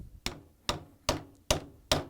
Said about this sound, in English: Hammer in all the way.